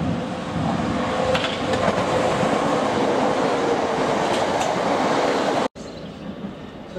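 Passenger train on a Sunday at Swanley railway station, a Victoria to Sittingbourne service heading for Gillingham, rumbles loudly and steadily past with clattering wheels and a faint squeal, then briefly cuts out near the end.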